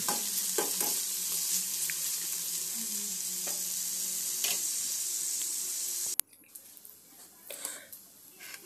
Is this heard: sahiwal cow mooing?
no